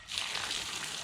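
Water runs from a newly installed pipe at a barn, a steady close splashing rush that holds evenly throughout.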